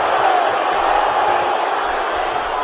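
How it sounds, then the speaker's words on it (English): Arena crowd roaring during a WWE 2K19 WCW Japan Supershow wrestling match, a constant loud wash of cheering with faint rhythmic pulses that suggest chanting, and a commentator talking over it. "This crowd's going crazy"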